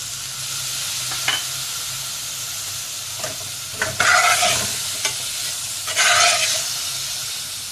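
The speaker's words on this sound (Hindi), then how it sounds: "अब ये हम चॉप की हुई हम प्याज डाल रहे हैं। लेमन जूस है।" Chopped onions and lemon juice frying in a pan for a chicken samosa filling, with a steady close sizzle and hiss, broken by a few spoon scrapes and two louder bursts of spitting as ingredients are stirred.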